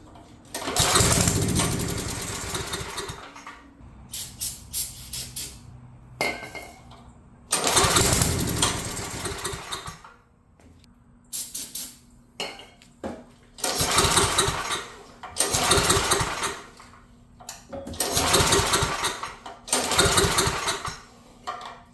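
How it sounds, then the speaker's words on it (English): A Powerback GT5250 generator left abandoned for many years sputters to life in repeated rough bursts, its small engine catching, surging and dying back between pulls, loud and close. "So the motor fires up."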